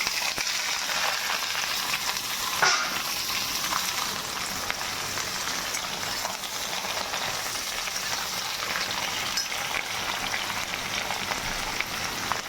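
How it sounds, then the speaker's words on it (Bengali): Chopped vegetables sizzle and fry in hot oil with panch phoron in a home kitchen, a continuous bright crackling hiss that holds steady throughout with no talking. "এবার আমি যে সবজিটা কেটেছি সেই সবজিটা দিয়ে দেবো"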